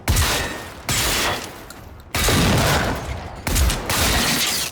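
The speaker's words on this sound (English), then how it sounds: "Modelled after the very unique real-world Swedish Sjöqvist semi-auto shotgun, it's an absolute blast" A Sjöqvist semi-automatic shotgun in a first-person shooter video game fires in four heavy, booming blasts, each with a long crackling tail, loud and close with no talk.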